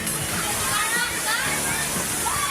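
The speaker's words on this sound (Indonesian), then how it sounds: "para pengunjung asik menikmati kolam ombak di wahana air The Jungle Kota Bogor" Wave pool water sloshing and churning at The Jungle water park in Bogor, West Java, a steady broad wash of water with crowd chatter mixed underneath.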